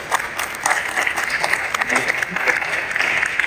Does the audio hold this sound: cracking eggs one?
no